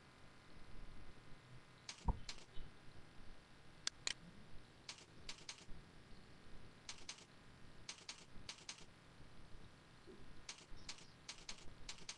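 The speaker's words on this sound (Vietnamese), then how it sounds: "gõ vào mục test bất kỳ" Quiet, close typing on a computer keyboard, with scattered clusters of soft key clicks and short pauses over a faint background hiss.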